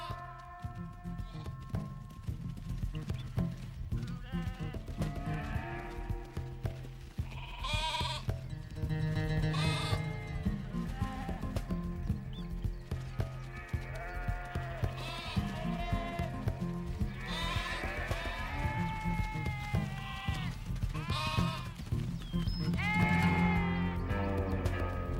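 Sheep bleating repeatedly with a guard donkey among them, several wavering cries overlapping at moderate distance over a steady low background hum and music-like drone.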